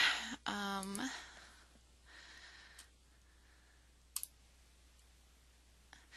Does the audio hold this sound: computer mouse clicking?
yes